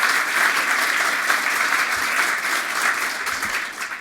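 Applause from an audience at a Good Business Charter anniversary event greets the Deputy Prime Minister, a full, steady wash of clapping that stays loud throughout and tapers slightly at the end.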